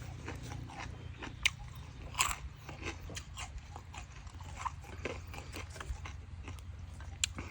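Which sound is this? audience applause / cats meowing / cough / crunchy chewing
crunchy chewing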